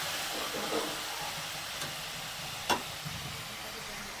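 Oil sizzles steadily in a pan while onions and tomatoes sauté for prawn gravy, a soft constant hiss with a couple of brief scrapes of a spoon.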